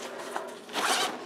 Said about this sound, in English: the other bottom zipper